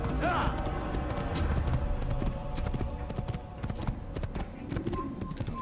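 Hooves clip-clop steadily from a horse galloping and trotting across open country in the video game Assassin's Creed, set in the Holy Land, with a brief whinny early on and game ambience and voices mixed underneath.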